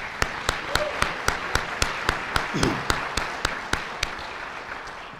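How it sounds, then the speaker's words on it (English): Slow, evenly spaced claps at an education foundation event, roughly two per second for five seconds, over a steady room background with a faint voice-like murmur midway. "please, let's give them a round of applause"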